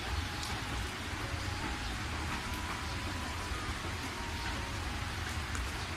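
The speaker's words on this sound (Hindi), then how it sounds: "तभी रास्ते में जोरों की बरसात होने लगती है।" Heavy rain falls steadily on a roadside route, a dense, continuous hiss of drops drumming on surfaces with no let-up and no voices.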